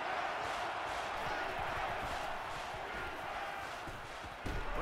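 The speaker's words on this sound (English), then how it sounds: "The crowd of this stadium always a factor in a football game." Steady roar of a stadium crowd in NCAA Football 14, a Nebraska vs Notre Dame game on a third-and-goal play, holding a loud, dense, continuous wash throughout with no voices standing out.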